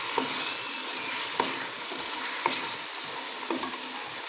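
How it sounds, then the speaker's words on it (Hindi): Chicken karahi being fried in a wok, a steady close sizzle broken every second or so by a brief scrape of a stirring spoon, with no voices. "अभी हम 2 से 3 मिनट और इसकी भुनाई करेंगे"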